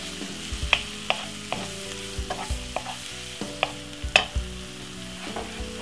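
White onion fries in a pan for a tomato sauce with king prawns and penne, a soft continuous sizzle under a run of spaced spoon clacks and scrapes against the pan, no talking.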